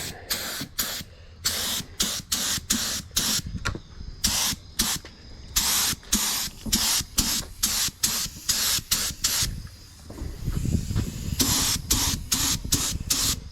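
Repeated short bursts of spray paint hiss in a steady rhythm as a demolition derby car rim is painted red outdoors in hot weather, each burst a second or so long, with brief pauses between passes.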